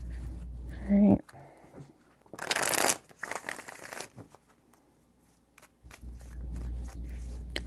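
Papery riffles and soft slaps of tarot cards being shuffled close by, in short bursts, with a low voice heard briefly.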